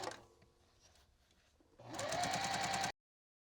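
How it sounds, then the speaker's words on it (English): A sewing machine stitches a quilt border seam, starting after a quiet pause and running steadily at close range with a fast, even rhythm before stopping abruptly. "I'm just going to sew along this seam now"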